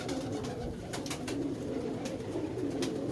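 Pigeons coo close by in low, repeated calls, with brief flutters and rustles on top and no talking.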